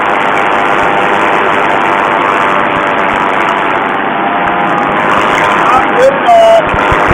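A paramotor engine drones loud and steady during takeoff, its buzzing roar continuous and close, with some voice mixed in beneath it.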